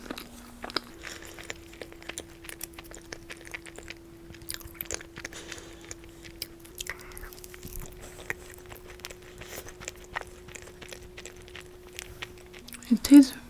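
An egg tart is bitten and chewed close to the microphone, giving soft, irregular crunches and chewing noises over a steady low hum, ending in a louder bite.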